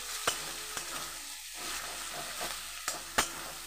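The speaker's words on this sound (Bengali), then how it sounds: "তো চলুন তখন আমার পেঁয়াজটা ভাজা হতে থাক" Chopped onions sizzle and fry in a pan for an egg-and-jackfruit prawn dish, with a steady hiss broken by a few sharp scrape-and-clack spatula strokes, close and moderately loud, no talking.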